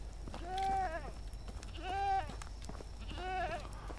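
Goats in the video game Medieval Dynasty bleat three times in a row, each call a wavering, drawn-out bleat at moderate loudness over a low background hum, with short pauses between them.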